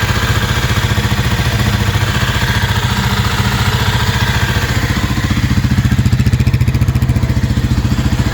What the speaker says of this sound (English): So take a listen to the motor up close here.